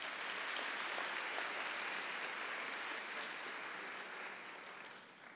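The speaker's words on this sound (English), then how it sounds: "Let's give our staff a round of applause" Sustained applause from a large audience at a university graduation ceremony, steady and full for several seconds before slowly fading toward the end.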